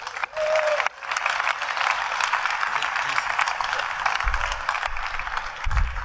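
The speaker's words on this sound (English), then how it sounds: "please give him a big round of applause." Audience at the DEF CON 20 hacking conference breaks into loud, sustained applause filling a large hall, with clapping steady throughout and a few brief low thumps near the end.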